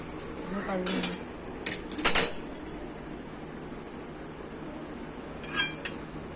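Methi pithla spooned from a pan into a dish, a few metallic clinks and scrapes of spoon on cookware early on, then quiet with one more soft clink near the end.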